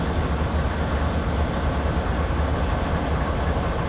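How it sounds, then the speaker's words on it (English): A medium-length train in Train Simulator 2013 rumbles steadily along the Granite to Wycon route, a continuous low engine and wagon drone with no talk over it. "got a medium-sized train here, nothing too long compared to some of the scenarios"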